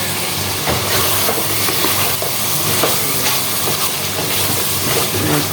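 Pointed gourd and chickpeas boiling in a pot in a home kitchen, a steady loud hiss of steam with a dense bubbling wash close by and no talking.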